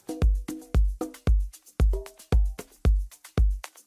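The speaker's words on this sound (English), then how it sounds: "I spent some time messing around with a couple loops and came up with a drum groove that sounds like this." Organic house drum groove built from loops, with a deep kick thumping on a steady four-beat pulse under short tonal percussion hits and crisp hats, loud and even throughout with no talk.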